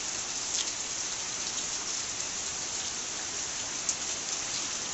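Heavy rain falls on a flooded roadside in front of a house, making a constant dense hiss of drops with a few sharper splashes. No voices are heard.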